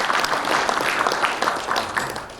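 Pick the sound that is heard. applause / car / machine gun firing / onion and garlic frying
applause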